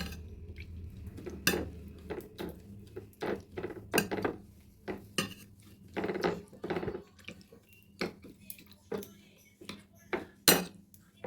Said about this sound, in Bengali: এখন একটা মেশা দিয়ে স্মেশ করে নেব একদম মসৃণ করে